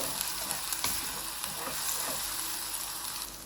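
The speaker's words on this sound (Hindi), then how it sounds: "तो प्याज को हम हल्का हल्का ब्राउन कर लेंगे, इसको ज़्यादा नहीं हमने भूनना।" Sliced onion sizzles and fries steadily in hot oil, browning lightly in a pan, with a continuous close crackle and a few soft stirring scrapes, no voices.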